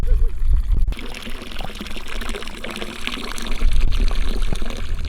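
Water splashing and trickling as feet are cooled in a small mountain pool on a hot day in the Alps, close and loud with sloshing pours and dribbles, no talking.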